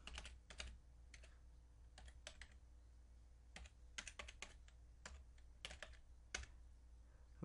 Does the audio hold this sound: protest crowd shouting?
no